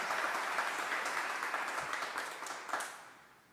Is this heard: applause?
yes